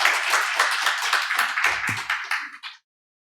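A church congregation at an Easter service claims a burst of hands clapping together for about three seconds, close and lively, with a few low voice sounds under it before it stops abruptly.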